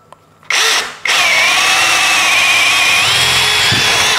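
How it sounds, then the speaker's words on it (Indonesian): A DOLIZ BD636 12V brushless cordless drill revs up briefly, pauses, then runs loud and steady at speed 2 as it bores with a 16 mm auger bit, its motor whine holding close and continuous. "speed 2-nya pun torsinya sudah cukup kuat untuk pengoboran mata bor auger 16 mm"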